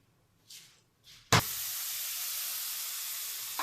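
Chicken with onion and a little salt hits a hot pan on the stove with a sharp knock, then settles into a steady, loud, close sizzle of frying that continues without talking, after a couple of soft shaking sounds.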